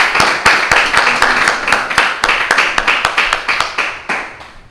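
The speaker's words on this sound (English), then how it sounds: "Give our brother ministers another round of applause, please." A small group claps for visiting ministers at a church gathering, sharp distinct hand claps in a fairly quick rhythm, close and loud, tapering off toward the end.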